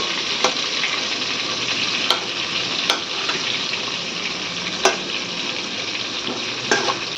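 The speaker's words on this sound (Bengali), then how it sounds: "এই যে আলুটা লাল লাল করে ভাজা হয়ে গেছে" Potatoes fry in a pan with a steady, close sizzle, browning to a reddish colour, while a utensil scrapes and stirs them in a handful of sharp, separate knocks.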